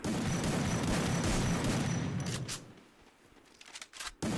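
Gunfire in the Free Fire mobile battle royale game, a burst of loud shots filling the first half, then quieter scattered effects with one sharp crack near the end.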